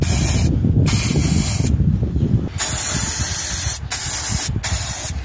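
Lubricant sprays onto the brake line fittings of a Citroën Saxo VTR in several close, loud hissing bursts separated by short pauses.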